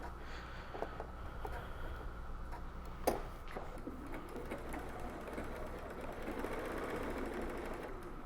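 A sewing machine stitches reusable makeup remover pads with a quiet, steady mechanical whirr and ticking, plus a single sharp click partway through.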